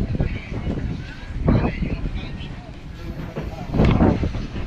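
Gusty wind buffets the microphone in low rumbling bursts, swelling and easing repeatedly, while people talk nearby.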